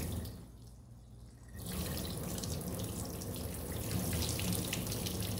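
Water streams steadily from a homemade handheld watering-can sprinkler onto potted plants, a continuous close hiss that starts after a quieter moment and holds evenly to the end.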